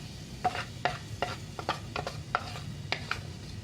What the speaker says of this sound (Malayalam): ഇനി ഇതിലേക്ക് ചേർത്ത് കൊടുക്കേണ്ടത് വാഴപ്പിണ്ടിയാണ്.